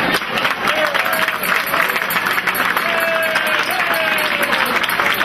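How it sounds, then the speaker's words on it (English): A dinner crowd at a Democratic Council Jefferson Jackson Dinner opening ceremony gives sustained, loud applause, a dense wash of clapping with cheers and whoops rising over it. "give yourselves a big round of applause"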